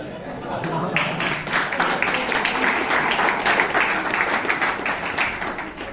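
Applause from the audience at a Bangalore Toastmasters club meeting, as many hands clap in a dense, steady wash for the whole six seconds at an even, moderate level, with a murmur of voices underneath.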